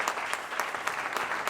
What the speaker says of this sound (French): Par applaudissement, ceux qui ont été là dans le show de la semaine.